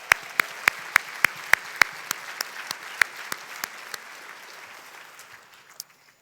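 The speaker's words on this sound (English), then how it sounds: "So let's give them a round of applause." Scattered applause from a small audience at the MANDI Awards 2016 ceremony during the People's Choice Awards: about a dozen sharp, distinct claps in quick succession that thin out into softer, sparse claps and fade to near silence.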